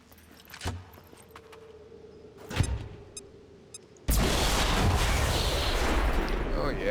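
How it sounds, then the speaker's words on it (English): A grenade blast in the tactical strategy game XCOM 2 bursts in suddenly after a few quieter clicks and thuds, then its loud, rumbling noise holds for several seconds. "Grenade out!"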